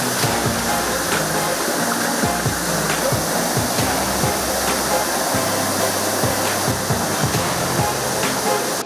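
The Surlabbi waterfall near Madikeri, a fall about 250 to 300 metres long on the route from Madapura to Surlabbi, rushes in a loud, continuous roar of white-noise water with no pauses.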